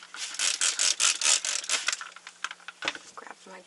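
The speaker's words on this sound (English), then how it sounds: "Spritz it with some water." Close, crisp hissing bursts of a spray bottle spritzing water during painting, several quick spritzes in a row, followed by softer brushy scrapes and small handling noises.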